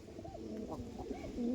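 Andhra pigeons coo in soft, rolling bursts at close range, several throaty calls overlapping against a low background murmur.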